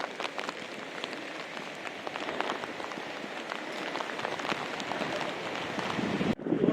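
Steady rain falls on the Vaishno Devi pilgrimage route in the mountains amid cloud and fog, a dense continuous patter of drops on surfaces that swells slightly toward the end with some wind noise.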